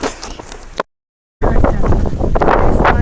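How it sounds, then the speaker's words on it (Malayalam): Strong wind buffets the microphone in loud gusts, briefly cutting to silence before roaring back even harder. "നല്ല കാറ്റുണ്ട്."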